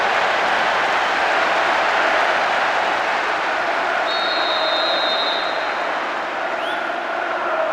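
Crowd roaring after a goal in the soccer video game Pro Evolution Soccer 6, a loud, steady wash of cheering that fills the whole stretch with no break.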